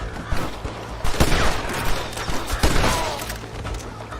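Gunfire in the Red Dead Redemption video game, a few sharp shots and cracking bursts over a busy backdrop of mechanical clatter and game music, fairly loud and close.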